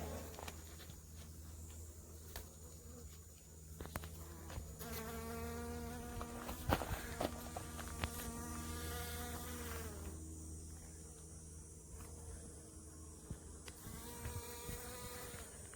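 Honeybee buzzing steadily inside a hive as it clears webby, cottony debris left from a pollen patty, a close, continuous insect drone with brief louder wingbeat bursts.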